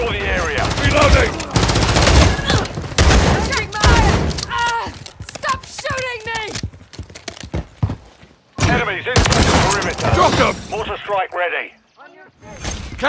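Heavy Call of Duty gunfire, with bursts of automatic shots and booming volleys, comes in waves under frequent shouted voice callouts, with brief lulls between the louder exchanges.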